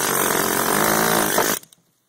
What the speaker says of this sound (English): Now let's watch the air chisel in action.